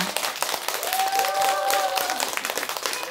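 An audience at a 2023 brain education convergence symposium applauds, a short burst of crowd clapping with a faint tone ringing briefly through the middle.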